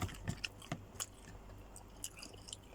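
Close, soft chewing of fried porkchop with red rice, with irregular moist crunching bites and small squishy mouth sounds spaced through a quiet room, no speech.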